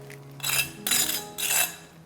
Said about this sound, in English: when I rub the knife across it, it sounds pretty crisp to me